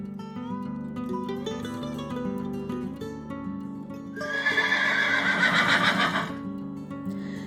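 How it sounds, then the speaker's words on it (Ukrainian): A horse gives a loud, shrill whinny over a steady droning background, the call rising and trailing off after a few seconds. "Дітки, чути наступну тваринку. Прислухаємось. Хто це може бути? Коник."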